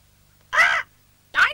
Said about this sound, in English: But that's a cockatoo, Dill.